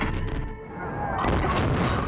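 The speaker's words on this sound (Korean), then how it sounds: "전류 급증 현상인 서지로 인해 폭발 사고를 겪습니다" An explosion tears through a space station during a power surge in the film Ad Astra, heard as a loud burst and then a rising roaring blast with crackling debris.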